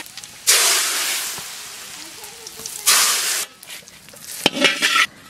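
Cumin seeds hit hot mustard oil in three sharp, loud bursts of sizzling spatter, each fading to a quieter crackle in between.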